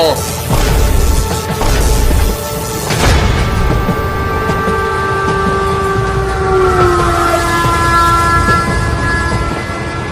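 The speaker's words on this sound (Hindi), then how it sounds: "ट्रेन तो चली गई मालिक।" A train passes in a cartoon story with a rushing rumble and rattle, followed by a long, loud horn tone that holds and slowly drops in pitch.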